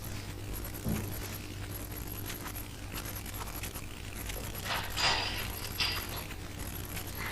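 Metal clamp on a LOBO handrail low band being loosened and slid along the rail, giving faint scrapes and clicks over a steady low hum, with a brief metallic rattle near the end.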